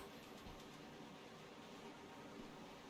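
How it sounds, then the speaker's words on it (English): A train in the Resident Evil 0 video game rolls along and gathers speed, a faint, steady rumbling hum with soft rhythmic clatter and no talk. "Train is quickly picking up speed."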